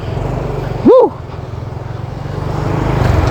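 A Honda Supra X 125 FI motorcycle is ridden along, its small engine giving a steady, close drone with a rhythmic low pulse; a brief rising-and-falling squeal cuts through near the one-second mark.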